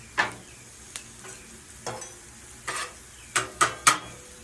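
Onions cooking on a Blackstone flat-top griddle while burgers are being smashed: a quiet sizzle runs under several sharp scraping and tapping strikes from a spatula on the steel surface, spaced irregularly. No one talks.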